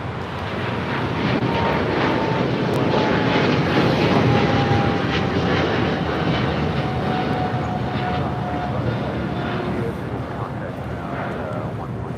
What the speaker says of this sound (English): This is China Airlines Dynasty Flight 5 Heavy taking off to Taipei on a 777-300ER.